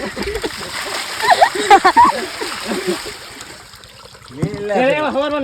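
People splash into a water tank during a village Holi celebration, with sloshing and spattering water heard under lively overlapping voices.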